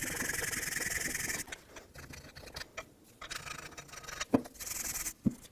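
Rust is scraped and filed off a brake caliper bracket on a 2007–2009 Saturn Aura, with bursts of harsh rasping strokes broken by short pauses and a few sharp metallic knocks, close by.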